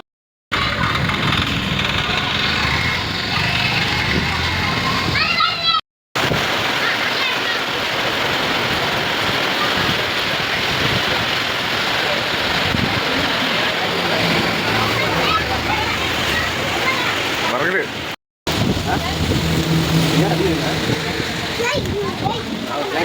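Steady rain pours onto a road, a loud dense hiss running almost unbroken with a couple of brief cuts, with talk mixed in underneath.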